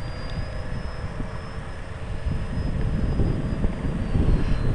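A GWS Me109 RC warbird model plane flies at full throttle on a windy day, its engine a steady high-pitched whine over heavy wind rumble that swells slightly toward the end.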